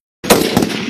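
After a moment of silence, two loud, close gunshots crack out a fraction of a second apart, followed by a lingering echoing rumble.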